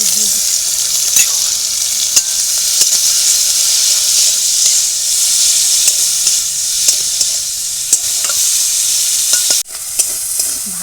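Small shrimp fry with turmeric in a pan, a loud, constant sizzling hiss with occasional clicks and pops of stirring, close up and uninterrupted, with no talking.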